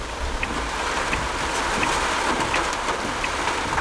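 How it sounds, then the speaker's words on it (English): Steady rain hissing broadband with a continuous wash of noise and a few faint drip-like ticks, no voices. "the weather has decided to bail on us today and start raining"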